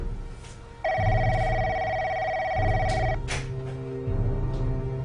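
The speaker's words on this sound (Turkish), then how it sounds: "Kapı çalıyor." An electronic doorbell rings at a front door, a steady sustained electronic tone that lasts about two seconds, loud and close, over a low background hum, with no talking.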